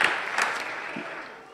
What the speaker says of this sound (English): How about a round of applause for the kids here in our church?